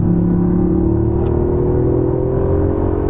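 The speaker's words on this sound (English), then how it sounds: "you just hear that Yaris roar" A Toyota Yaris engine roars loudly under hard acceleration, a close, sustained droning whine rising steadily in pitch from inside the car.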